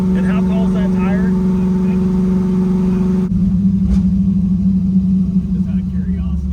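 A 1968 Chevelle with a cammed 5.3-liter V8 at full throttle on a test drive, a deep, steady engine drone heard from inside the car, with voices talking over it before the tone shifts partway through.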